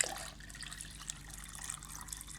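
Soaking water drained from lentils pours into a container in a steady, low trickle that runs close and fairly quiet, with faint splashes and drips throughout and no one talking.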